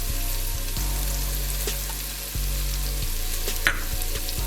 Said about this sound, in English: We're gonna let that cook off a little bit until it gets nice and translucent.